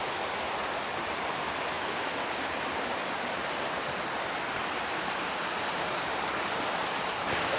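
A waterfall at the end of a hiking trail in Bulgaria roars as a loud, steady broadband rush of falling water, heard up close with no voices.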